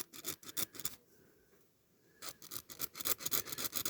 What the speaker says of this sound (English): You just basically get your file, or if you want to do it with Dremel, you can.